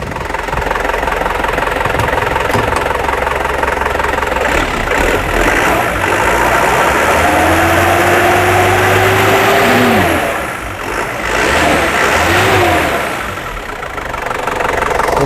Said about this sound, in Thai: ไห้เร่งเครื่องหน่อย